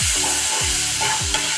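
Onions sizzle loudly in a hot pan while cooking chatpata bhindi, with three rhythmic stirring scrapes cutting through the steady close frying hiss.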